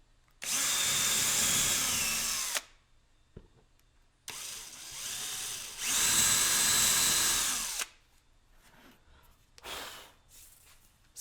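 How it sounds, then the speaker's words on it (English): A cordless power drill bores holes for decorative cabinet handles, running in two loud, close bursts of about two and three seconds each, followed by a brief shorter whir and quiet handling noises. "Now proceed to drill. Now we're ready to drill."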